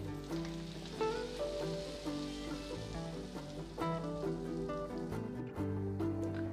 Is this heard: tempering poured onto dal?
yes